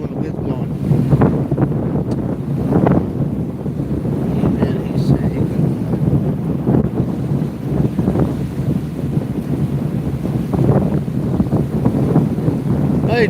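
Strong wind buffets the microphone steadily on a windy day by the water at Haystack, a continuous low roaring rush with no pauses.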